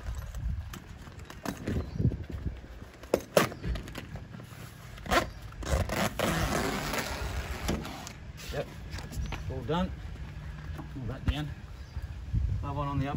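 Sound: zipping up a camper trailer tent zipper

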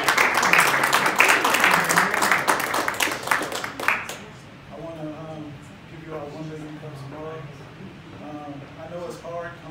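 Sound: audience applause for the speaker

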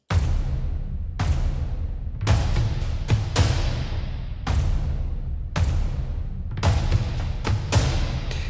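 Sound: layered percussion instruments

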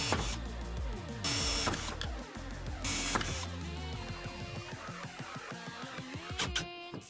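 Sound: drilling holes in a wooden circular saw guide rail

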